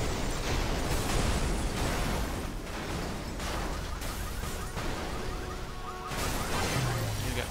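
Burnout 3: Takedown cars smash and crash at racing speed, a dense continuous roar of engines, grinding metal and shattering impacts that stays loud throughout with only brief dips.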